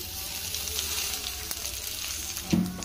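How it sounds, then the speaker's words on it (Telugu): Green chillies, onions and garlic sizzle steadily in hot oil in a home kitchen, a constant close frying hiss with a small clatter of stirring near the end. "పచ్చిమిరపకాయ, ఉల్లిగడ్డలు, అలానే వెల్లుల్లి వేసి అయితే ఫ్రై అయితే చేస్తున్నానండి"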